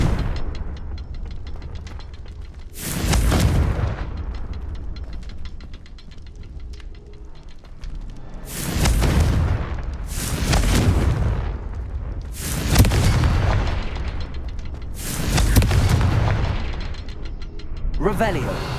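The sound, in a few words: Confringo spell blasts in the video game Hogwarts Legacy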